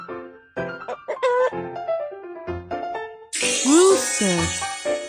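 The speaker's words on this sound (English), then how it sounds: "Rooster." Cartoon rooster crowing in a hearing test segment, a loud, bright synthetic call rising and bending near the end, preceded by chirpy cartoon voices and sound effects.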